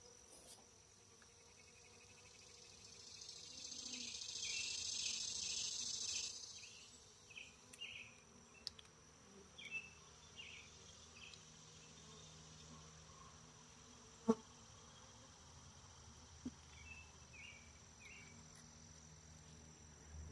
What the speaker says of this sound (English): Nice calm bees.